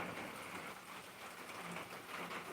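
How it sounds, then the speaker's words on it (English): Steady rain during a spring storm, a dense even hiss of falling drops close by with no breaks and no voices. "I love the rain."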